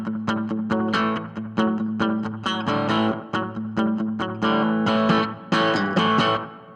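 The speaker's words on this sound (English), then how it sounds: "So I've added in a delay, and I've added in a reverb." An electric guitar through a NuX MG-30 with delay and reverb plays repeated strummed chords, each ringing out with echoing repeats and a spacious reverberant tail.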